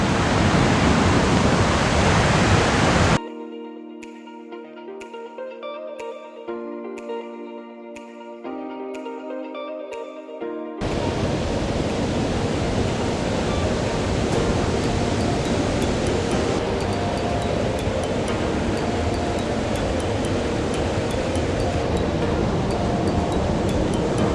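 A forest waterfall at Chet Khot–Pong Kon Sao in Thailand makes a steady, loud broadband rush, broken partway through by a short musical passage before the roar returns and continues unbroken.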